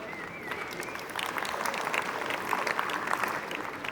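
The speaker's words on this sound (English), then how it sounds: "A lot less claps for that one" An audience gives a moderate burst of applause that swells and holds for a few seconds at a business and life talk, with a faint voice near the start.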